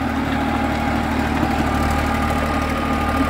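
A 241 tractor pulling an 8-foot, 60-blade heavy-duty KSD rotavator runs with a steady, close, rumbling engine drone and faint knocking vibration, unbroken for a few seconds with no talk.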